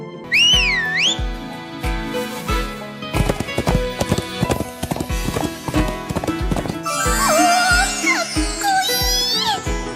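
A whistle rising and falling, then a horse galloping closer with rapid clip-clop hoofbeats and a whinny, all set over lively anime background music.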